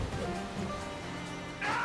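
Steady rushing water from a waterfall in the Sonic Unleashed game, a continuous broadband roar with a brief brighter game sound near the end.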